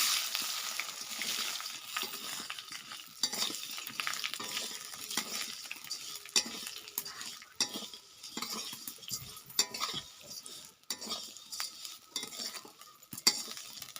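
Semai vermicelli fried in a pan while a utensil stirs it, giving a close, irregular run of scraping and clinking over a steady sizzle, with no voices.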